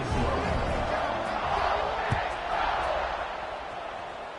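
Football stadium crowd on gameday roaring steadily before a kickoff, a broad continuous wash of cheering that holds loud throughout with one brief thump near the middle.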